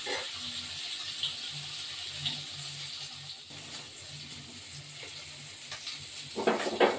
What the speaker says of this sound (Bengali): পেঁয়াজটা ভাজা হবে